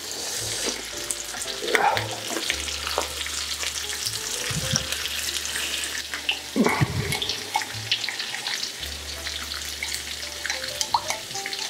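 Large salmon fillets fry in a too-small skillet, a continuous close sizzle with a low hum beneath, interrupted by clanks and scrapes as the fish is flipped.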